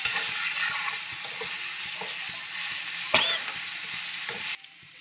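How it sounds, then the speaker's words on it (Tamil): Raw banana slices frying in a pan while being stirred, with a steady close sizzle and soft scraping strokes from the spoon, ending in a sudden drop to near quiet. "நடுவில் வந்து கிளறி விட்டுனே இருங்க."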